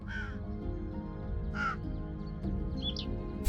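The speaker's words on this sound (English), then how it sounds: "he makes crow noises" Crows caw in the video game Airborne Empire: a few harsh, scattered calls, mid-distance, over a steady low background of game ambience and music.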